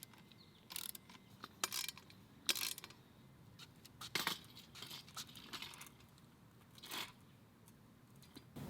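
A 17mm socket ratchet tightening the rear swing arm spool on a Kawasaki Vulcan S motorcycle: a series of short, sharp clicking bursts spaced irregularly, fairly close and quiet, with no talking.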